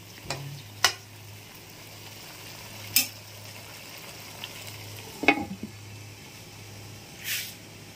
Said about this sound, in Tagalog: Tumukulo na. Haluin muna natin.